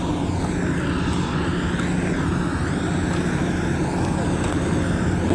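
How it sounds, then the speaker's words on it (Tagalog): A generator runs at a Saudi Arabian work site near fabricators, a steady loud engine drone with dense low hum and broadband roar, continuous and unbroken throughout with no pauses. "Generator."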